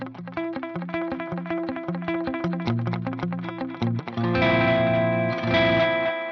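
An electric guitar runs through a Fuzz Imp Furia distortion pedal and an Echo Moon delay placed in front of the amp. It plays a fast picked riff with repeating echoes, then loud, sustained, heavily distorted chords that smear into a thick delayed wash.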